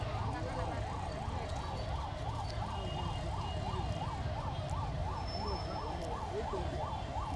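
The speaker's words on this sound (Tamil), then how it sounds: "ஆம்புலன்ஸ் போயிட்டுமா சத்தம் கேட்டு" An ambulance siren wails continuously in a fast, rising-and-falling pattern, loud and steady, over a constant hum of background noise at a rural panchayat workers' protest.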